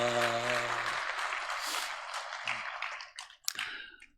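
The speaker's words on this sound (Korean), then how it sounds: "찬양 받으신 주님께 우리 감사의 박수 올립시다" A church congregation applauds during a Sunday worship service, with a steady wash of clapping that starts as sustained instrumental tones fade out in the first second, then thins toward the end with a few scattered claps.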